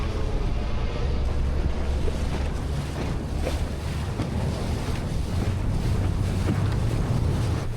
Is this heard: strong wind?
yes